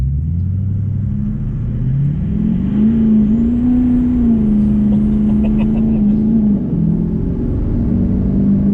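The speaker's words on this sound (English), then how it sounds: "We're just gonna roll into the throttle." A car fitted with compound turbos and rear-wheel drive accelerating under throttle, a loud, close engine drone that climbs steadily in pitch and holds high before easing slightly, continuous throughout.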